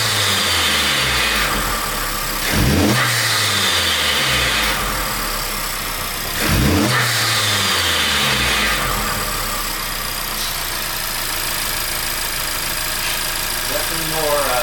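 A Honda Civic Type R FL5 fitted with an Eventuri carbon intake is started and revved, two sharp rev blips rising over a steady idle, close and loud, with a whooshy intake character.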